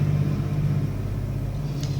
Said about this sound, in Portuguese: Deixa o barulho do carro passar.